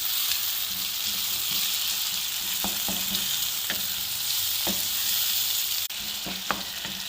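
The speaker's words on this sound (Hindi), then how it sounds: "फ्राई करेंगे अच्छे से प्याज़ों के साथ।" Finely chopped tomatoes fry with onions in a pan for an egg khagina, giving a loud, continuous sizzle broken by a few sharp clicks of a stirring utensil.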